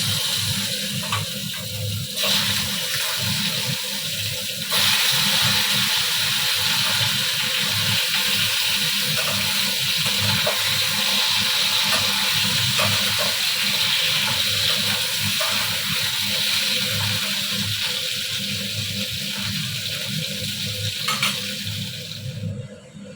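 Pointed gourd (potol) frying in a pan, a loud steady hiss and sizzle of oil that flares up more strongly a few seconds in and holds evenly before cutting off near the end.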